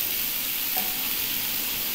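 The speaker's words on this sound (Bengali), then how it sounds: "প্রথমে একটু হলুদ দিয়ে দিচ্ছি," Cauliflower curry for a roast sizzles and fries in a pan as turmeric goes in, a steady, close hiss of hot oil with faint stirring and no voices.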